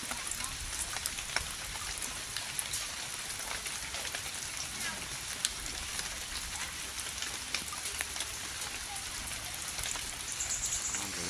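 Steady rain pattering on surfaces, a dense continuous hiss of drops with scattered sharper ticks, fairly close and unbroken throughout.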